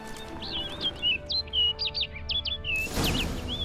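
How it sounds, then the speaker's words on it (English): A bird in The Witcher 3: Wild Hunt, Blood and Wine, gives a run of bright, rapid chirps and short whistled tweets, fairly close and clear, ending in a broader whooshing burst. "Looks like the bird's leading me somewhere."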